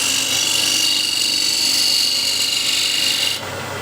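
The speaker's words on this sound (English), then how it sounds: "So that's using the scraper flat." A woodturning scraper held flat against spinning wood on a lathe gives a continuous, close, hissing scrape over the hum of the machine, then drops off abruptly near the end.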